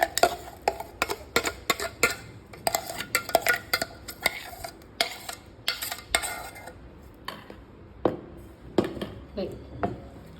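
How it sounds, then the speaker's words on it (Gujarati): Ground mango pulp scooped from a grinder jar into a bowl with a spoon, giving a series of sharp metallic clinks and scrapes in an irregular rhythm, with faint talk underneath. "તો હવે આ પલ્પને આપણે એક બાઉલમાં કાઢી લેવાનો છે."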